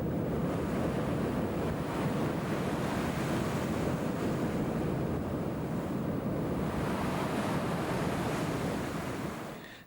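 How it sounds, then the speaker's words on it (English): Heavy winter storm at Keiko's bay pen in Iceland: roaring wind buffets the microphone over crashing surf in a loud, continuous broadband rush that eases only at the very end, no voices. "The first heavy winter storm is sweeping the island, wind speed 13"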